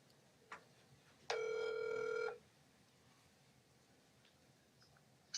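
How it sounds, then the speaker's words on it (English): A phone rings once during a county commission meeting, a single loud electronic ring lasting about a second, preceded and followed by faint clicks in an otherwise quiet room. "Your phone's gonna ring back."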